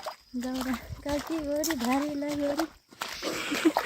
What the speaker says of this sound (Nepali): म त यहाँ पानीमा हिँड्छु